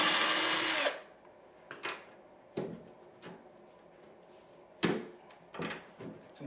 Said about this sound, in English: It's just a matter of taking these 2 screws out.